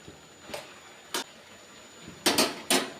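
Spinach being turned in a pan, several separate scraping stir strokes against the metal, close and fairly crisp, with quiet gaps between them and a faint steady hiss underneath.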